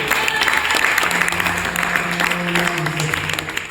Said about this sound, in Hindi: तालियां देंगे।